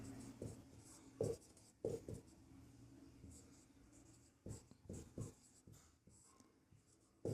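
Pen scratching across paper in short, soft strokes with pauses between, close and faint, during a maths lesson on probability, with talk over it.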